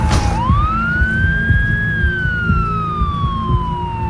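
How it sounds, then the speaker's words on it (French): A rising and falling electronic siren from emergency vehicles, firefighters, police and ambulances, converging on a passenger plane crash site; one loud wailing tone sweeps up then slowly down over a low rumbling engine and traffic bed. "Pompiers, policiers et ambulances convergent tous vers le lieu du crash."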